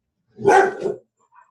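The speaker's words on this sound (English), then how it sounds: "Sorry, my dog. My maladjusted dogs." One dog lets out a short double bark, close and loud, followed by silence and a faint trailing yip.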